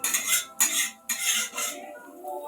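A metal utensil scrapes and clinks against a pan as fried coconut is lifted out, several short close scraping strokes with a soft metallic ring, no voices.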